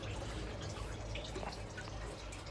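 Water from a retrofit pond bottom drain pipe pours out in a steady, fairly faint rushing trickle, with the pump switched off. The flow runs continuously throughout with no voices.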